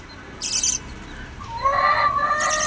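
Lovebirds give sharp, high chirps and squeaky calls in short bursts, close by on a Chennai rooftop, with a brief pause between them.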